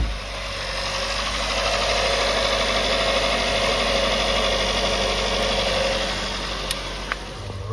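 A 2018 Hyundai Sonata bought at auction idles steadily just after starting, a loud, even engine hum with a constant low drone and faint ticks near the end.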